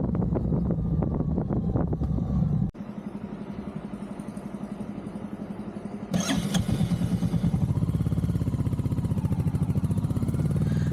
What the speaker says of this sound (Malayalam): ഇങ്ങനെ ക്രൂസ് ചെയ്ത് പോകാനുള്ളൊരു വാഹനമാണ് നമ്മുടെ ഗോവൻ ക്ലാസിക് 350